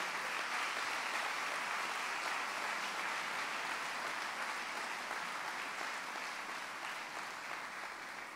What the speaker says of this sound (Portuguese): Pode aplaudir o Senhor pela graça de Deus.